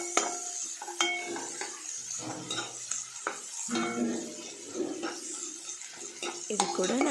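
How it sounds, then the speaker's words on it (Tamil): Onions and green chillies sautéing in a pan for chana masala, with crackling sizzle broken by clanks and scrapes of a spoon stirring against the metal, close and uneven, no speech. "இது நல்லா வதங்கி வரணும்."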